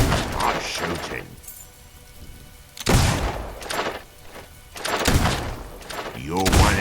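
Gunfire from the video game Fable II, several loud broadband bursts in quick succession, cracking out over ambient game sound and some background noise.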